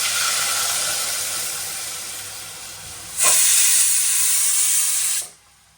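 Gram flour batter poured into a hot pot of spices and fenugreek seeds for Gujarati kadhi: loud continuous steamy hiss that swells midway, then cuts off abruptly, close and without voices.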